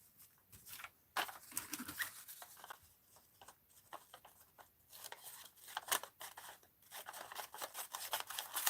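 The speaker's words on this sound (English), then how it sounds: "I'm going to cut this down a little." Scissors snip through wax seal material while making a center seal, a scatter of short crisp cuts and crunches, close and fairly quiet, with light rustling between them.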